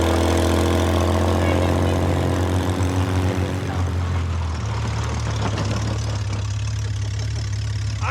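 An engine drones loudly and steadily as a vehicle drives through desert dunes, its low rumble dipping briefly midway before settling into a continuous hum.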